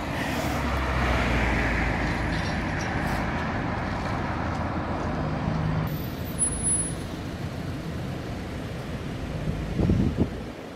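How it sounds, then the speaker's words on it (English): Buses rumble past on Park Lane by Tottenham's new stadium construction site, a loud, steady roar of heavy engines and traffic with a hiss of air brakes, swelling and easing as vehicles go by close at hand. "these buses keep getting in my way"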